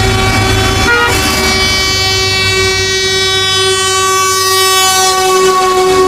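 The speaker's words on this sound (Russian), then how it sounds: "Пока электрички проносятся с ветерком" Electric commuter train rushing past with a loud, sustained horn blast throughout, steady rumble and wheel noise near and close, no talk.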